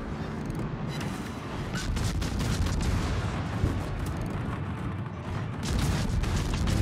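Naval gunfire in a warship video game, with a dense continuous rumble of heavy booms and crackling blasts filling the clip, loud and sustained without pause.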